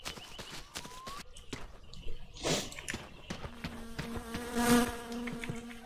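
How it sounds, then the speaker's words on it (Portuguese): A fly buzzing in the video game My Summer Car, a thin droning whine over busy game sounds of clicks and knocks, rising and fading as it passes close. "Ai, mosca do demônio."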